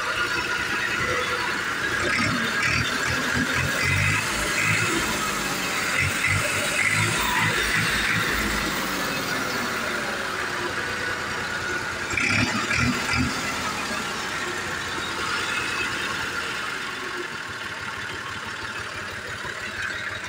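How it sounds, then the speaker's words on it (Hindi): A Massey Ferguson 350 tractor stands with its engine started, giving a steady, close mid-pitched running drone with a light rattle throughout, alone with no talk. "ये स्टार्ट ट्रैक्टर खड़ा है"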